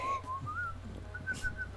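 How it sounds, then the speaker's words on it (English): A person whistles the theme tune from an old Mickey Mouse cartoon short, a clear, wavering melody of a few sliding notes heard up close over faint background hum. "I'm just whistling the theme tune from that one short"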